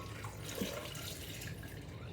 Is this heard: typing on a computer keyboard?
no